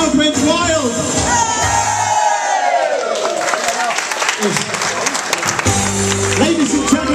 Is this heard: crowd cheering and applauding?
yes